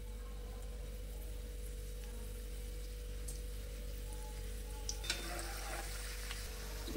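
Gujiya frying in moderately hot oil in a pan, a steady soft sizzle and bubbling that runs throughout, close and even, with a brief stir or clink near the end.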